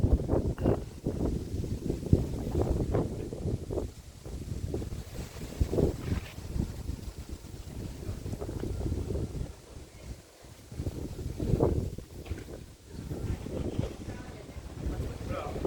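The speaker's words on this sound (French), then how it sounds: "Il y a du vent, hein." Wind gusting outside Chartres cathedral, a steady low rumble of buffeting against the microphone that swells and eases throughout, with voices talking over it.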